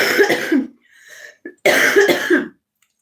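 Two bursts of harsh coughing, close and loud, separated by a short pause with a faint throat sound.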